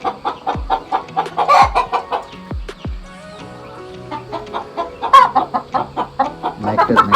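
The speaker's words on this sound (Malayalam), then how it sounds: "ഓക്കെ, നമ്മുടെ നാടൻ പുള്ളിക്കോഴികളാണ്, ഒറിജിനൽ നാടൻ പുള്ളിക്കോഴി" Native spotted chickens clucking close by in a steady run of short, repeated calls, with a few sharper squawks and occasional louder bursts among the flock; no one speaks.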